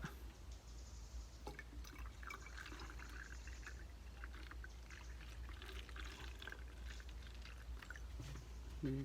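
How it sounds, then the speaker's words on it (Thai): Starter culture liquid pours steadily into a fermentation mix, a continuous trickling splash running the whole time with some faint dripping, moderately close. "ต่อไปขั้นตอนสุดท้ายเติมหัวเชื้อนะครับ เติมหัวเชื้อ"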